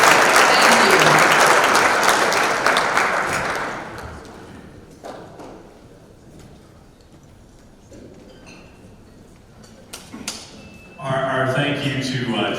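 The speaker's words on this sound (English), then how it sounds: "And clap really loud when they won't be able to hear us." A banquet hall audience at a school district athletic hall of fame dinner claps loudly at first, then the applause fades into scattered claps and room noise before voices and a short burst of clapping return.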